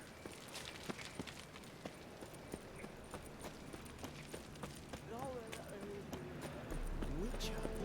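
Horse hooves clop in a rhythmic run in The Witcher 3, steady close footfalls with game ambience, a brief whinny-like tone near the end and a rising rumble at the close.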